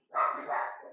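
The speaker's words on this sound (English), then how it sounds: "There go the dogs." Dogs bark at home in one loud, close burst lasting under a second, with a brief dip midway before it fades.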